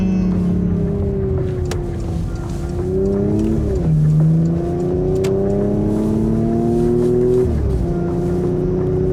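A Porsche Macan's engine revs while driving, climbing through the gears with audible pitch drops at each shift, a loud, close, steady engine note heard from inside with no talking.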